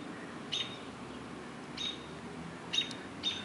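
A baby bird fallen from its nest gives four short, thin chirps spaced out over a quiet background, faint and close, with no talking.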